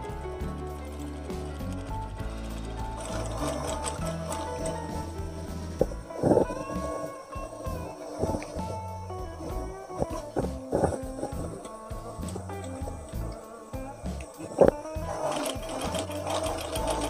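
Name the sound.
sewing machine stitching a mini suit collar onto the lining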